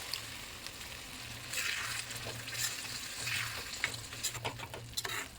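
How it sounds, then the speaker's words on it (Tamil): Tamarind gravy bubbles and sizzles in a pan with soft crackling pops and spatters, close up, no voices. "இப்போ கரைச்சி வச்ச புளி தண்ணி 1 கப் ஆட் பண்ணி நல்லா கொதிக்க விட்டுக்கலாம்."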